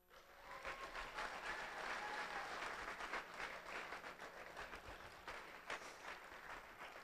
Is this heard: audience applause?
yes